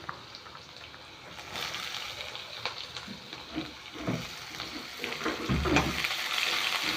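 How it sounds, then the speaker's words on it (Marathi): Pumpkin pieces frying in a pan with curry leaves, stirred as they cook: a steady close sizzle with scraping and clinks of stirring throughout, rising slightly toward the end. "आता त्याच्यामध्ये आपल्याला भोक्याच्या फोडी टाकून घ्यायच्या आहेत"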